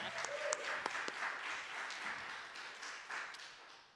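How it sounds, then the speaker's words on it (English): An audience applauds at an arts performance venue, a modest round of clapping with a few sharp individual claps standing out, fairly faint and distant, fading toward the end. "I'm going to clap for that"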